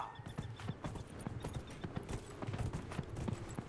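Horse hooves clip-clopping steadily while riding in the Dragon Age Inquisition video game, a continuous rhythmic trot alone with faint creaking tack over a low background.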